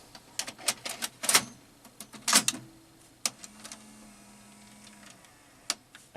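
Standard VHS tape pulled out of a TEAC CR-310 VHS-based 10-track communications recorder and an S-VHS tape put in, heard as a sparse run of sharp plastic clicks and clunks, close and fairly quiet, with a brief faint mechanical hum between them.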